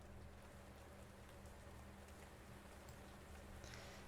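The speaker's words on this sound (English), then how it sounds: "Can you guys hear the rain noise that's like playing in the background?" Steady, very faint rain patters softly and continuously in the background, with no distinct drops standing out and no voices over it.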